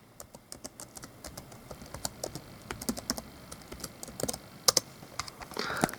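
Keys clatter on a laptop keyboard as a password is typed, a quick irregular run of close, crisp taps that bunch together near the end.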